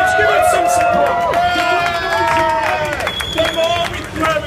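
A crowd at the BodyPower Expo 2015 USN squat challenge cheers and claps loudly for contestants, a dense roar of voices and whistles close by, with a voice on a microphone over it.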